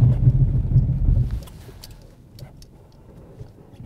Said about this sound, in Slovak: Takže Golfinu rozbehneme zhruba na tých 55 km za hodinu.